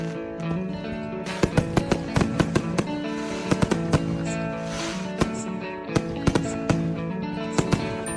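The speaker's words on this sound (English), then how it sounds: "look at the fireworks here" July 4th fireworks go off in a rapid, loud series of sharp bangs and crackles, with bursts irregularly spaced against a constant backdrop of distant popping.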